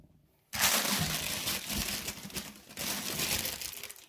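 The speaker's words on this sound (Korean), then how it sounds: "폐기물 전용 비닐봉지가" A plastic bag for medical waste crinkles and rustles steadily up close while a home-quarantine supply kit is unpacked, its crackling bursts loud and continuous after a brief quiet start.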